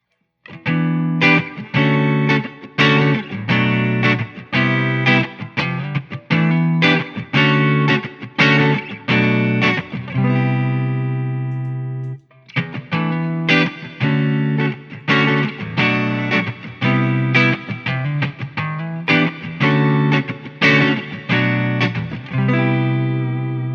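Electric guitar played through an ambient reverb pedal, a loud sequence of strummed chords with a short, subtle wash of decay after each attack and a brief pause midway.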